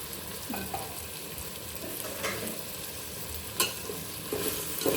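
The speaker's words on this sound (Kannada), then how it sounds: "ನೀಟಾಗಿ ಮಿಕ್ಸ್ ಮಾಡಿಕೊಂಡು ಸ್ವಲ್ಪ ಟೊಮ್ಯಾಟೊ ಎಲ್ಲ ಸಾಫ್ಟ್ ಆಗೋವರೆಗೆ ಚೆನ್ನಾಗಿ ಚೆನ್ನಾಗಿ ಮಿಕ್ಸ್ ಮಾಡ್ಕೋಬೇಕು" Tomatoes frying in a pan while being stirred, a soft continuous sizzle broken by a few scraping strokes of the spoon, fairly close and fairly quiet, with no talking.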